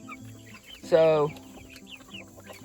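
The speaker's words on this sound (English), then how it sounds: "this is our little chicken tractor flock here" A chicken in a small chicken tractor flock gives one loud, close cluck amid quiet background chatter, with someone speaking briefly.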